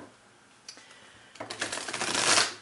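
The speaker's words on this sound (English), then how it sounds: "We're going to do two more shuffles here." Tarot cards are shuffled by hand: a few soft taps and slides, then a quick riffle that builds into a crisp, rising flutter of cards at close range, with no talking.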